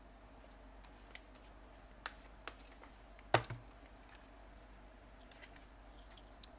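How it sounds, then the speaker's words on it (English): A deck of oracle cards being shuffled, soft papery riffles and scattered taps with a couple of sharper snaps, faint and close against a quiet room. "I will also shuffle 3 times"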